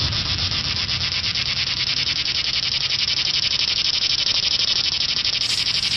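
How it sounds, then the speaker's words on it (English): A cicada buzzing loud and continuous outdoors on a muggy day, a dense unbroken drone with a fast pulsing texture, close and steady throughout with no voices. "Sounds like a cicada."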